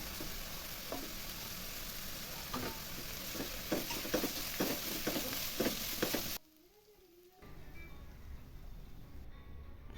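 Shallots sautéing in oil for fish biryani masala, a dense crackling sizzle broken by repeated scraping stirs, then a sudden hushed gap before a quieter frying hiss resumes.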